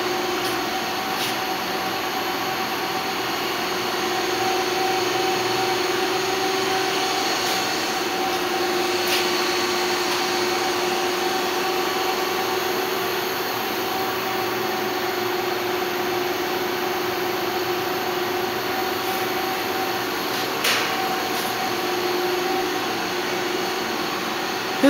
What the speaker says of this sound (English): This is the IAMCA bar feed that comes with the L32.